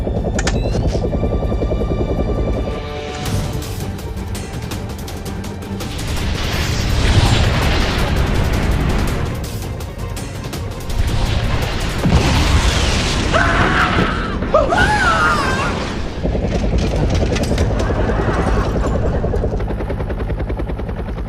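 Bomb explosion effects boom out loud and close amid a dense, droning mechanical roar resembling a helicopter, with several bursts rising over the continuous din.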